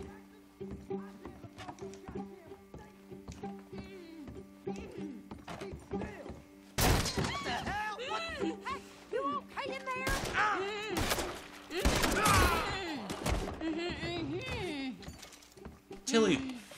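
Pistol shots fired in the Red Dead Redemption 2 video game, several sharp loud cracks amid game sound and voices talking.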